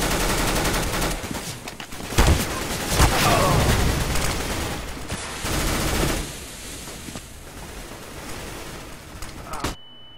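Rapid gunfire in Counter-Strike: Global Offensive during a competitive match, bursts of shots and automatic fire crackling loudly through the first six seconds, then thinner, quieter exchanges with occasional shots.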